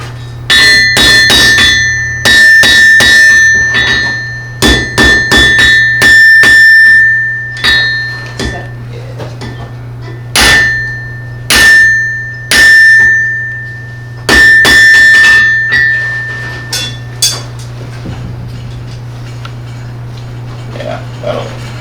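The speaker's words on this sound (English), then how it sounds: "As I hammer down, that's going to widen" Hammer blows ring out on metal at a blacksmith event, coming in rapid bursts of sharp strikes with a ringing overtone, separated by pauses, over a steady low hum.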